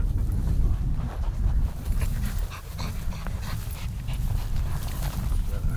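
A decoy dog pants rapidly and steadily nearby during a coyote hunt, breathy gasps in a continuous rhythm with faint rustling underneath.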